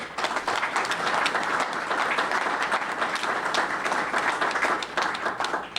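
Sustained audience applause at a school board of education meeting honoring a newly appointed high school assistant principal, dense continuous clapping filling the room for several seconds without speech.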